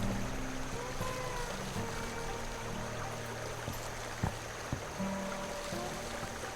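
Swift, cold, pebbly babbling brook in the video game The Night of the Rabbit, a steady trickling water bed with soft game music tones and a few faint clicks over it.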